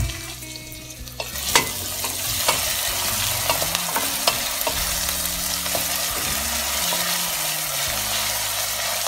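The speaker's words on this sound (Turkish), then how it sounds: "Şöyle 5-6 dakika biberle soğanımı soteledim." Chopped onions and peppers sauté in hot oil in a pan with a steady, close sizzle, broken by the scrape and clack of a utensil stirring every second or so.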